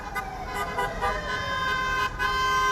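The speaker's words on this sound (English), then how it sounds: "The faint sound of a car horn," Car horn honking from a caravan during a welcome home parade, heard as a steady tonal toot over traffic rumble, moderately loud throughout.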